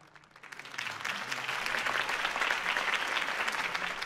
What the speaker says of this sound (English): Mr. Wayne, my campaign's largest backer, could have heard that applause